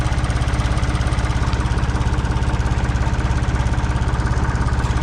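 An International 484 tractor engine idles steadily close by, a loud rhythmic diesel chug with even pulses and a low rumble that runs throughout, with no voices.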